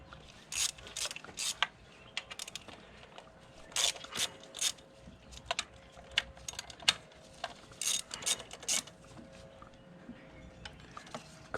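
Ratchet wrench loosening 10mm valve cover bolts on a 2013 Mini Cooper S, heard as close, repeated bursts of quick ratcheting clicks separated by short pauses.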